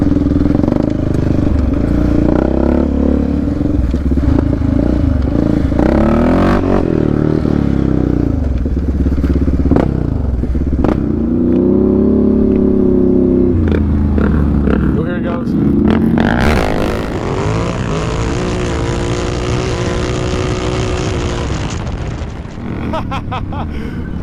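The engines of a Raptor 700 and a Renegade 1000 ATV roar loud and close as they rev hard and surge, with people talking and shouting over the noise.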